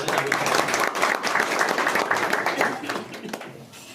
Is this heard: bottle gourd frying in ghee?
no